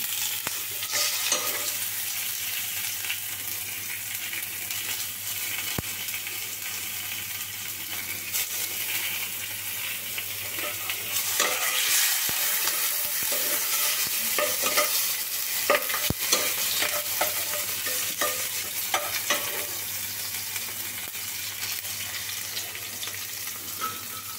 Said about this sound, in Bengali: এবারে তেলটাতে একটু টমেটো কাঁচা লঙ্কা দিয়ে দিলাম